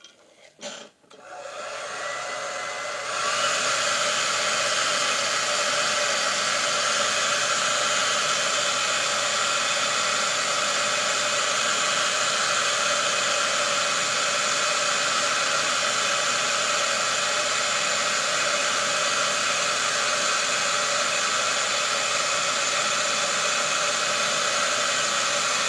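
A hair dryer blows steadily to dry paint, a loud, constant close-up whoosh that starts after a few seconds of handling and runs on unchanged.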